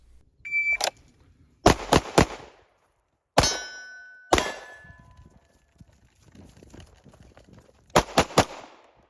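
Sharp, loud shots from a Glock SCT-17 pistol fitted with a Zaffiri Precision upper parts kit come singly and in quick groups of three, each with a brief ringing tail, and quiet pauses fall between the volleys.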